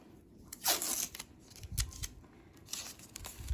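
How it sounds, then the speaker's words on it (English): Tape is torn and pressed onto a short-stretch compression bandage, a series of close crackling rips and rustles in irregular bursts. "And now I'm just going to tape the mess out of this."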